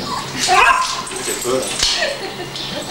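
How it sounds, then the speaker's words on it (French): A toy poodle gives short yips and whimpering barks close by. They are mixed with people chatting over them. "C'est un caniche de poche."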